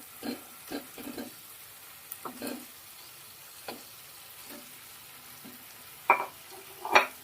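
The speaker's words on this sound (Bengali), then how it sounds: "দিয়ে একটু কষিয়ে নেবো ভালো করে বেগুনের সঙ্গে মশলা দিয়ে" Fried eggplant is worked through a ground spice paste in a pan, making intermittent scraping stirs over a faint low sizzle, with the strokes growing louder near the end and no voices.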